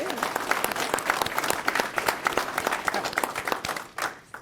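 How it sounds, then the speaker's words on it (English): A meeting audience of a regional transit district applauds long-serving employees, with sustained crowd clapping at an even level that tapers off at the end. A few faint voices mingle in the room. "Please give them a round of applause."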